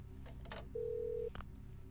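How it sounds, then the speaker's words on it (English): A telephone in the Parasite Eve II video game gives a single steady electronic tone lasting about half a second. It sounds over quiet in-game ambience and is clear and fairly prominent. "I wonder if this phone dials out."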